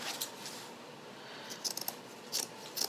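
Scissors snip through a banner in a few quiet, crisp metallic cuts, faint against a soft room background.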